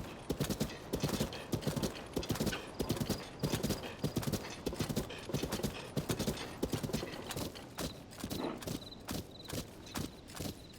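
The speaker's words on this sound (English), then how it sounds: "That horse that's whinnied to me in my dreams." Heavy hooves of a giant stallion in Zelda: Tears of the Kingdom, thudding in a steady, loud clip-clop rhythm close by, with a brief whinny mixed in.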